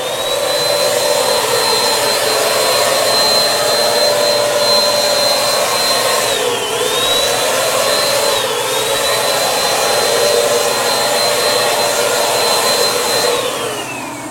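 A pre-treat spray gun's motor runs in a steady, loud, high-pitched whine as it sprays onto a garment, with the tone briefly dipping twice.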